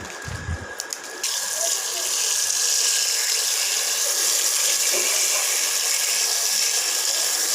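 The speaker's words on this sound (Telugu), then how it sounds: "గోంగూరను కడగాలి శుభ్రంగా" Gongura leaves are washed under running water: a brief clatter of handling, then a strong, steady gush of tap water pouring into a vessel, close and continuous with no talking.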